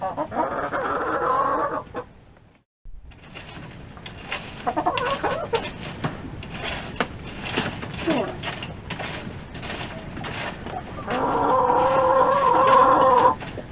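Two broody hens cluck and murmur close by, with soft continuous clucking and louder bursts at the start and end.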